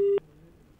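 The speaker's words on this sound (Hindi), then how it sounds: "फोन कट हो चुका है जी मैम" A single short, steady telephone tone on the line right after a call drops, cutting off after a fraction of a second and leaving faint line hiss.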